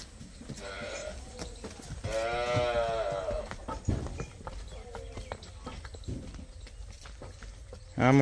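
A buffalo calf at a rural cattle sale walks with irregular hoof steps close by, while people talk and chatter nearby.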